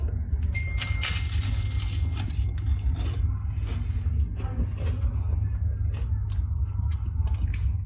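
Crunchy biting and chewing on crisp fried bread, close and fairly loud, with small crackles over a steady low background hum.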